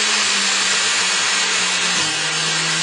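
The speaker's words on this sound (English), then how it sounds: "see here, the blender? It's starting to mix. You see the chopping now" A blender runs at a loud, steady whir, mixing and chopping ingredients for a chocolate dessert, with a low rhythmic thumping as the contents churn close by.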